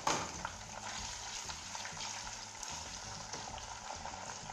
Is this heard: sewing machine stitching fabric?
no